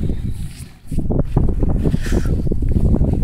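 Loud, gusty wind buffeting the microphone with a deep rumble that dips briefly, then roars back steadily.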